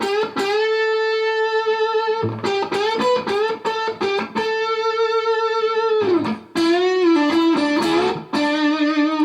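Telecaster electric guitar on its middle pickup position playing a song's solo with a warm, darker distorted tone, sustained notes bending and gliding between short gaps, loud and close.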